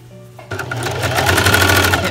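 Sewing machine stitching the neckline of a newborn baby sleeper, starting up abruptly and running in a fast, steady mechanical whir with rapid needle rhythm, loud and close.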